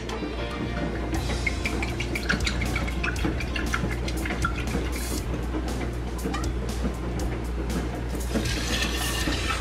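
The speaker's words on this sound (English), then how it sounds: "next up is the vodka. I'm gonna go ahead and pour 3 cups of that." Vodka poured steadily into a measuring cup for a cocktail, a continuous close splashing and trickling of liquid with small drips and clinks, heard alone without voices.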